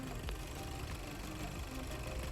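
Volkswagen Passat B8 (2017) engine idling, a steady low rumble with a constant even hum throughout, close and moderately quiet, no talking.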